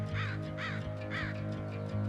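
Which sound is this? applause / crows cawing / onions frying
crows cawing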